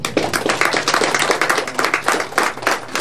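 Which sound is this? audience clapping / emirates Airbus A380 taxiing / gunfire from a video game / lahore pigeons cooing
audience clapping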